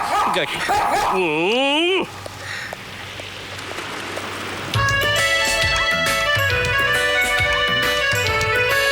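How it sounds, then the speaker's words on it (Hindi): A small dog in a film scene barks in a few sharp yaps near the start amid loud dialogue, followed by swelling background music. "मुझ पर भौंक रहा है"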